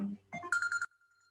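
A phone ringtone plays a short run of bright electronic notes during a spoken lecture, just after a brief bit of low voice, then cuts off with a faint lingering tone.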